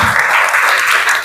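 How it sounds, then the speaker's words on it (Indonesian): Schoolchildren in a classroom clap together in a brief, dense burst of applause, loud and close, with no talking over it. "tepuk tangan buat kita semuanya"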